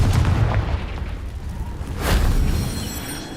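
A Confringo blasting spell explodes in the video game Hogwarts Legacy, a booming blast with a deep rumble that swells about two seconds in and then fades.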